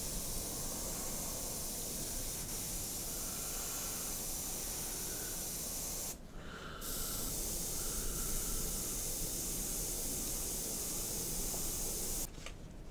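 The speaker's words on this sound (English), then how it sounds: "whilst I've got the white in the airbrush, I'll also do the fuselage crosses or the base for them anyway." Steady hiss of an airbrush laying white paint onto a 1/32 scale Zoukei Mura Bf109G-14 model, a continuous spray running the whole time with a brief break midway and another near the end.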